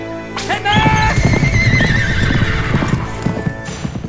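Horse neighs and hooves clop in South Park: The Stick of Truth, a whinny starting early and the steady hoof beats going on over game music with no talk.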